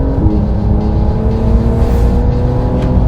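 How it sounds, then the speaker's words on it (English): A Porsche 911 GTS flat-six engine pulls hard on a South African road, giving a loud, continuous, close engine drone with no talk. "I'm an angry flat six."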